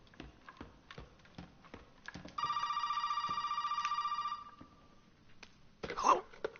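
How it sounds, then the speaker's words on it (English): Telephone ring in the video game Resident Evil 7, a steady electronic ringing burst lasting about two seconds over quiet footsteps and ambience, then fading before a louder rustle. "Seriously making phone calls right now?"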